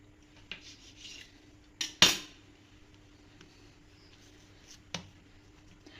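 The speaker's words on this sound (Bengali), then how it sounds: "তো এবারে আমি ছোট ছোট করে পিসেস করে কেটে নিচ্ছি।" A knife cuts khasta goja dough into small pieces on a board, giving a few sharp, isolated taps and knocks close by, with quiet gaps between them and no talking.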